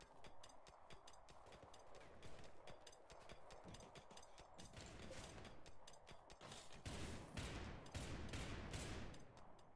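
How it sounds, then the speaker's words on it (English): Rapid bursts of gunfire from the video game RimWorld crackle repeatedly over a dense, noisy background, growing heavier and louder toward the end, with no talking. "I hear the gunshots."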